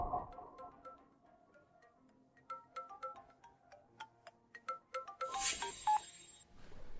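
Faint electronic ringtone tones and beeps repeat in a patterned sequence, quiet and thin, with no one picking up.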